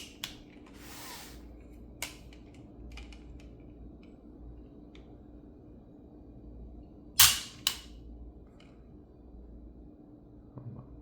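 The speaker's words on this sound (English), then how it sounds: "we're going to demonstrate the single action trigger pull real quick" Single action trigger pull on a Sig Sauer 229 handgun fitted with a spring kit, giving a few sharp, isolated mechanical clicks spread across a quiet room, with one louder snap near the middle.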